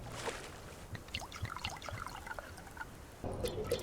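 Water trickles and pours steadily as containers are filled in a survival video game, a soft continuous splashing that grows louder and fuller near the end.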